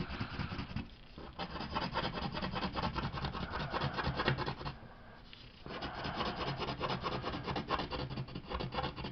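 Marker cross hatching on paper while drawing comic art, heard as continuous close scratchy rubbing strokes with short breaks between passes.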